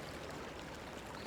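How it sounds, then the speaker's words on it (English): Steady water flows in the Star Trek: 25th Anniversary video game, a soft continuous rushing wash with no other sounds. "I hear water flowing"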